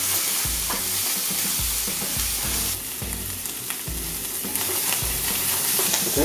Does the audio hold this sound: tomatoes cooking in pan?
yes